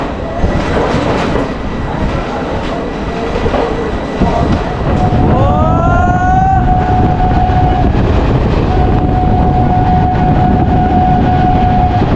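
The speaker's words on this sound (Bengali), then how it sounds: "4 মিনিট লেট ট্রেন ছেড়ে দিয়েছে তিস্তা তোস্তা এক্সপ্রেস শিয়ালদা স্টেশন থেকে" The Teesta Torsha Express departing Sealdah station rumbles steadily with rattling wheels, and a long horn blast sounds partway through and repeats, loud and close throughout.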